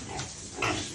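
A pig grunts a couple of times at close range, short rough snorts over quiet background noise, with no talking.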